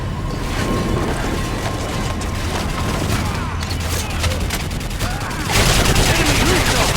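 Continuous battlefield gunfire, with overlapping automatic bursts and distant booms, fills a Call of Duty Modern Warfare cutscene. A second, heavier wave of shooting swells near the end.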